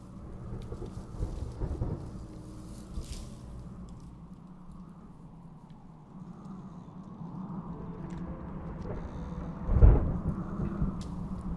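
Steady rain patters through a thunderstorm while low thunder rumbles on and off, with one sharper, louder crack near the end; no voices.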